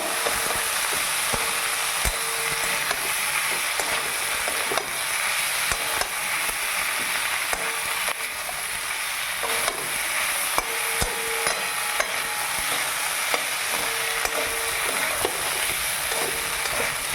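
Ginger paste fries in a pan and is stirred with a spatula, making a constant dense sizzling hiss with frequent soft scrapes and taps, steady and close, with no voices.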